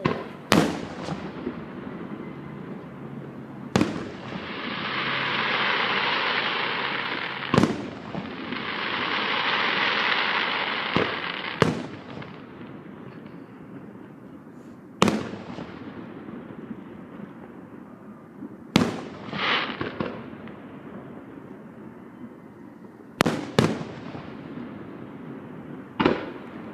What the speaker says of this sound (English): One fireworks coming up.